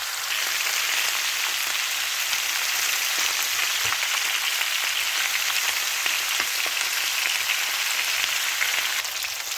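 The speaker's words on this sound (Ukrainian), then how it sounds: "сковорідка наша скворчить" Steady, dense sizzling crackle of meat frying in a hot pan, continuous and fairly close, with no voices.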